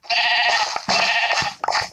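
Video game sheep bleat loudly and close, two long nasal bleats followed by a short third one, with no talk.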